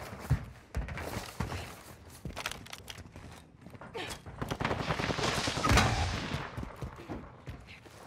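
AK rifle fire in a video game with a fire drum build, heard as dense bursts of rapid gunshots and scattered shots mixed with footsteps and game noise, moderately loud and continuous.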